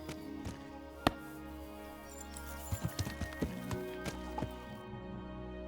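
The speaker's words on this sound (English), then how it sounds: "Where's my horse?" Horse hooves clip-clop in a video game, a series of light irregular steps with a few sharper hits, set against a steady game soundscape; no whinny stands out clearly.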